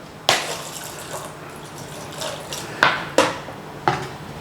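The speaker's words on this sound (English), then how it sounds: "I'm going to add just a little bit of water," Water splashes from a pour into a pan of chickpeas in a home kitchen, with a few sharp knocks of metal and utensils rising above a low, continuous trickle.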